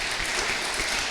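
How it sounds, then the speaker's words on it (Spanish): Church congregation giving a round of applause of gratitude, brief continuous clapping at fairly close range with no talk. "¿Por qué no damos un aplauso de gratitud a Dios"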